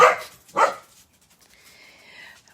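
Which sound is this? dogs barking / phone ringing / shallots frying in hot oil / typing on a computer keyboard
dogs barking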